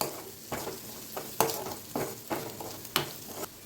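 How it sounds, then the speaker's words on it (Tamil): Onions with turmeric stirred and sautéed in a pan for poha upma: a soft continuous sizzle broken by about seven scraping stir strokes at a loose, regular pace, close up with no talk. "நல்லா வதக்கிக்கலாம்."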